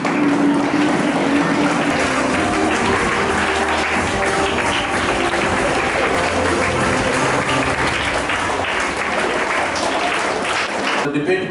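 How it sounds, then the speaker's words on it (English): Audience applause for the judges at a school debate competition, loud continuous clapping from a full room, sustained and even throughout, with some voices mixed in. "I request all of you to stand up and give a big round of applause"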